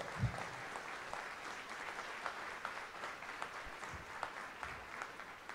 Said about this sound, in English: For the Instituto and Juan Salgado, a big round of applause.